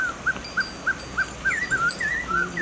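A dog whimpers in a string of about nine short, high, wavering whines, evenly spaced at first and then closer together, fairly faint over a low background rumble with no talk.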